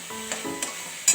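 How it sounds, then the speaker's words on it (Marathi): Chopped capsicum and cabbage hitting hot tempering oil for cabbage sabji: a close, steady sizzle and fry with a few sharp crackling bursts and stirring scrapes in quick succession. "हा आता फोडणीला घालायचं आहे"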